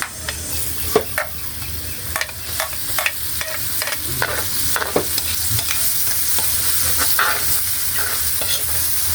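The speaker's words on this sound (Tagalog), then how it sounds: "So, igisa na natin yung bawang mga idol." Garlic and onion sautéing in a pan for bopis, a steady sizzle of frying with repeated scraping strokes of a spatula stirring through it, close and fairly loud, with no talking.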